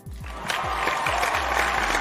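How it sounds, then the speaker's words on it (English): A classroom claps for a student in a biology lesson, a dense, even burst of applause that rises quickly and holds over a low, repeating thumping beat underneath. "Let's clap for him."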